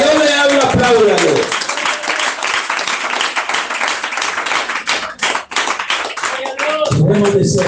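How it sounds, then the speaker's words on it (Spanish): A church congregation claps together in a dense, sustained burst of applause, with a voice speaking over the start and again near the end. "Denle un aplauso al Señor."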